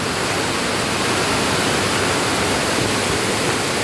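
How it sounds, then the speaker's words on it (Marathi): Dense, steady hiss of heavy monsoon rain pouring down in the Konkan, loud and continuous with no pauses or voices. "भयंकर म्हणजे भयंकर पाऊस असतात."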